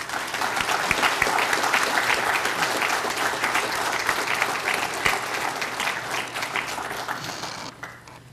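Sustained, dense applause from a large audience at a Veterans Day ceremony, honoring student speakers, steady and full for several seconds before tapering off at the end.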